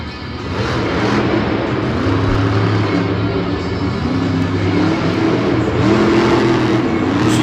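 Scooby-Doo monster truck engine at a Monster Jam show in Houston, Texas, roaring continuously with loud rising and falling revs, close and steady throughout with no talk.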